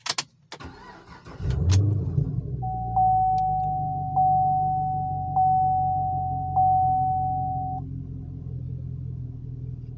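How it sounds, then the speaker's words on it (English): A 2015 Chevrolet Camaro SS cranks over with a sharp burst, catches, and settles into a deep, steady idle rumble. A repeating electronic warning chime sounds above the engine, close by inside the car. "Let me go ahead and start the car for you again."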